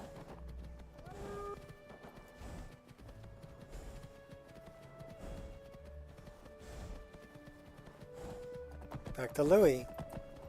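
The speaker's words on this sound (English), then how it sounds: "Now we ride the stolen horse." Rhythmic hoofbeats of a horse in the video game Skyrim clip-clopping at a steady pace, with someone speaking briefly over them and a louder burst near the end.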